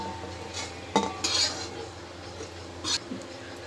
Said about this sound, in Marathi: आता ह्याच कढईमध्ये मी सुकं खोबरा घालतोय आणि ह्याच्यात तेल बिल घालायचं नाही